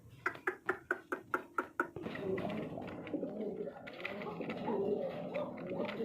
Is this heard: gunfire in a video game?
no